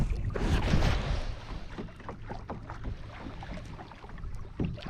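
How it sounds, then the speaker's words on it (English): Advanced Angler 120 fishing kayak cruising along on the Rio Grande, a close, steady whoosh of water and wind noise against the hull, swelling early and then settling, with no voices. "Just cruising along in the kayak, guys."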